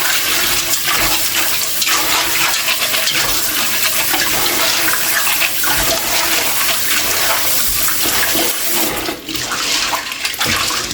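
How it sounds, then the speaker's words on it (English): Dried peas for Jamaican rice and peas being washed under cold running water in a pot, a loud, steady close-up rush of water that continues throughout. "So I'm now going to wash my peas. Wash my peas with cold water."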